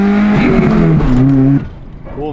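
A Nissan S13 engine fitted with a new header and blast pipes revs with a loud, buzzing exhaust drone that rises, holds and then cuts off, with talk mixed in.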